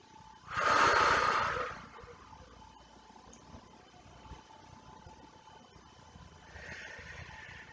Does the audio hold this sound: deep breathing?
yes